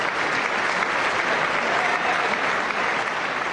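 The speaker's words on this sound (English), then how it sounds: "I don't get what the extra clapping is about right now" Sustained audience applause during a State of the Union address, a dense, steady wash of many hands clapping at a distance for the full stretch, with no pauses and no clear voices on top.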